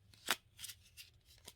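Playing cards from the game Blink are shuffled in a few quick, crisp riffles, close and fairly quiet, each burst a short papery flutter separated by brief pauses.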